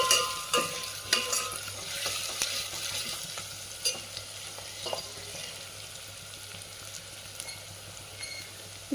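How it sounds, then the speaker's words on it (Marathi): A whole onion roasts in a pan for Khandeshi dal bati, crackling softly under a steady sizzle, with scattered scrapes and taps as it is stirred, close and quiet. "प्रकारे आपला कांदा भाजून घ्यायचा आहे मस्त."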